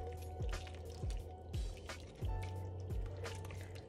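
A small spatula stirring sauce in a pan, giving soft wet squishes and drips at a slow rhythm of about five strokes, close and fairly quiet with no talk.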